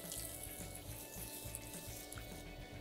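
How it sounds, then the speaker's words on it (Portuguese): Water from a tap runs steadily as two cups are poured over corn flakes in a bowl for a creamy blender corn cake, a continuous close splashing stream with no talking. "E venho com 2 copos americano de água."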